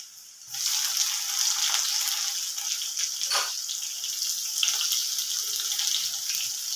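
Chopped onion drops into hot oil in a pan for upma and sets off a sudden, loud, continuous sizzle that hisses steadily with small crackling pops, alone without voices.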